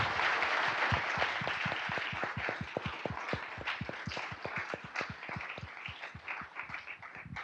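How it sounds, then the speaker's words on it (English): Audience applause for a panel at an alumni forum on venture capital, a dense round of clapping with sharp individual claps standing out, steady and fairly close, gradually thinning toward the end. "So let's give them a round of applause."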